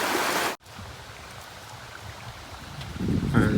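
Viles Branch Creek on a trail flows with a soft, continuous trickling hiss after an abrupt cut, the water swelling a little louder near the end.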